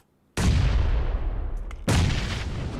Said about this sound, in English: Nades flying.